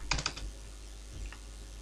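Fingers tap a computer keyboard in a short quick burst of several clicks, then after a pause a couple more soft keystrokes, close and fairly quiet over a faint hum.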